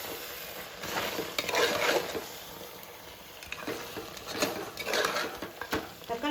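Mutton biryani masala with tomato being sautéed and stirred in a pan, a soft continuous sizzle with intermittent scraping and stirring strokes, close by and moderately loud, no talking.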